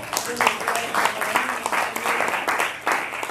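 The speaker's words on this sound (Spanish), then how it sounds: "denle un aplauso al Señor" Church congregation clapping during a sermon at Iglesia Alcance Urbano, a moderate, somewhat uneven patter of hands with scattered sharper claps and some voices mixed in.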